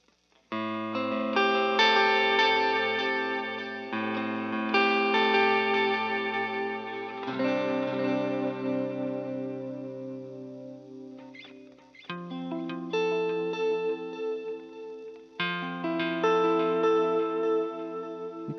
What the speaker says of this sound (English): Here's some down and eighth delay with that.